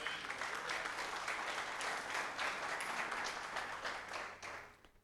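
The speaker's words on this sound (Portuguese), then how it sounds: "Você pode aplaudir Jesus por isso?" A church congregation claps together in sustained, dense applause that holds evenly for several seconds before fading out at the end.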